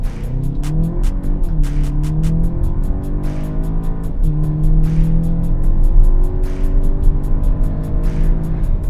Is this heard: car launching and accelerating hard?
yes